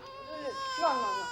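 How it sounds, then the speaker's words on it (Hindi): A baby cries in a brief, thin wavering wail, moderately loud and steady, in an office setting with a sustained background tone and no talk over it. "बच्चा रो रहा है, बच्चे को निप्पल क्यों नहीं देते?"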